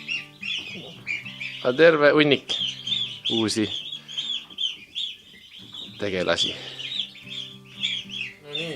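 Ducks and newly hatched chicks call near a backyard duck enclosure, with repeated clucks and high chirps running throughout, mixed with louder quacking bursts and a person speaking over them.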